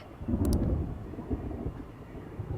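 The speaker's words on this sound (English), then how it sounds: "Another thunderstorm." Video game thunderstorm in Persona 5: low thunder rumbles and rolls in the background, a deep, dull roar that swells briefly and then lingers faintly.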